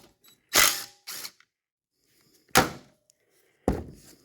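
Ratchet wrench loosening a 15 mm bolt on the transmission shift linkage of a 1977 squarebody's Turbo 350, heard close and loud as a few separate bursts of clicking ratchet strokes with short quiet gaps between them.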